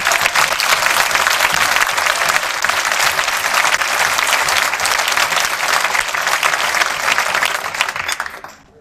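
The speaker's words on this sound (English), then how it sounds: "So I ask that we give them a roaring round of applause" Steady, dense applause from a large audience at an awards ceremony honoring winners, holding loud and even for several seconds before tapering off at the end.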